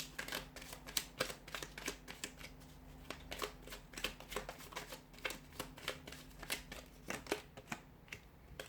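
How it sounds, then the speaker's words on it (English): Angel Answers oracle cards being shuffled by hand at close range, a quick series of crisp papery riffles and slaps in an uneven rhythm, quiet and alone with no talking. "So we'll give the cards a shuffle here"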